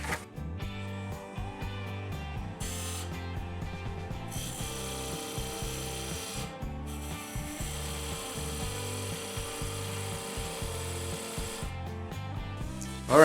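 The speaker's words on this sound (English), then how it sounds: "I'm using my skew chisel and doing a peeling cut." A skew chisel taking a peeling cut on a wood lathe, with a steady motor hum and a continuous rough, grinding cutting noise at close range, a few brief dips where the tool lifts away.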